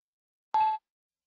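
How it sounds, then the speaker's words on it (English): A HearSay3 screen reader update notification plays as a single short electronic beep, clean and isolated in silence, lasting about a quarter second. "the designated sound notifies me of the updates without interrupting the speech output"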